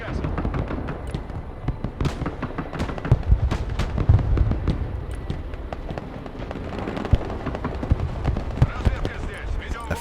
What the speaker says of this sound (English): Effective artillery fire.